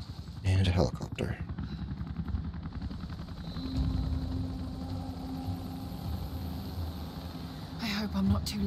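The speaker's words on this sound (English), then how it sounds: "And a helicopter." Helicopter in the video game Rise of the Tomb Raider, a continuous rotor and engine drone under game sound effects and a voice talking.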